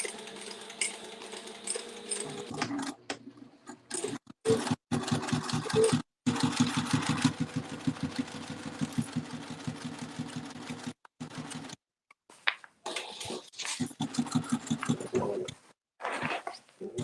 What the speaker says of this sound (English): I'm going to sew these together, leaving a gap